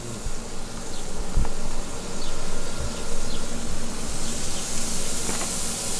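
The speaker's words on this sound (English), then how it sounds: "You want that sizzle." Chicken wings sizzle on a grill with a continuous fizzing, crackling hiss and occasional sharper pops. Nothing else is heard over it.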